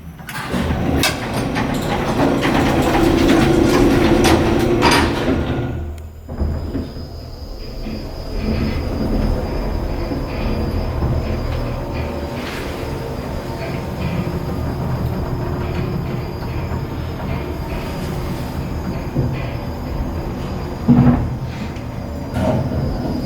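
A historic 1940s Otis black-button traction elevator running, with a loud mechanical rumble and rattle that drops sharply around the middle, then a steadier hum and clunks continuing to the end.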